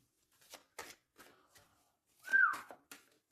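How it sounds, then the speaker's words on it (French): A person whistles a short, thin rising-and-falling note, clear and fairly close, set among soft shuffling and tapping sounds. "Non, c'est pas bien sifflé, pardon."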